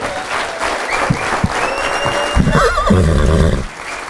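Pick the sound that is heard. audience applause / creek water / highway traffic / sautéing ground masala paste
audience applause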